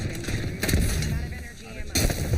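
Frag grenade blasts in a multiplayer shooter game, dense booming bursts with a sharp loud burst near the start and another toward the end, layered over continuous gunfire and background game noise.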